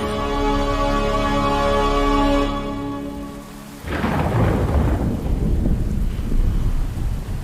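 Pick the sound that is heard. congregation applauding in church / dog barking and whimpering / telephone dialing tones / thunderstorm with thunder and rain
thunderstorm with thunder and rain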